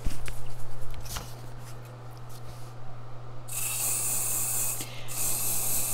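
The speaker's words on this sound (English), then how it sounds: "Let's see how the hairspray works." Hairspray is sprayed onto a sheet of paper to make it translucent: quiet handling noises first, then a loud, close aerosol hiss that runs for about two seconds, breaks off briefly and starts again.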